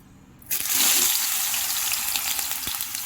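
Bitter gourd pieces drop into hot oil, setting off a sudden loud sizzle that bursts in after a quiet moment and then holds as a steady, bubbling frying hiss.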